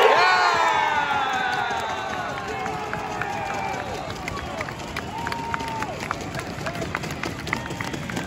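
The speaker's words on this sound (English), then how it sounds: "Corner for Frome, the crowd have woken up." A non-league football crowd cheers and shouts as Frome win a corner in a promotion final, a loud swell of voices and whoops that fades slightly but stays busy throughout.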